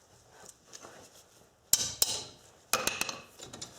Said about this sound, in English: I'll tap the end of the wrench with a hammer